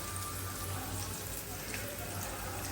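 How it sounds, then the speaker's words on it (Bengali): Onions sizzle as they fry in a pan, a faint, steady crackling hiss that runs without a break and sounds close by. "পেঁয়াজটা একদম ভাজা হয়ে গেছে।"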